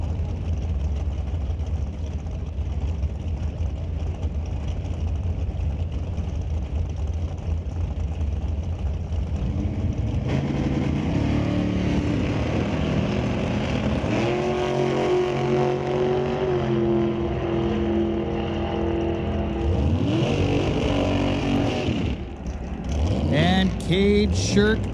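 At a drag race, a second-generation Camaro and a dragster idle, then roar and rev hard down the strip, loud and sustained, with a track announcer talking over the engines throughout.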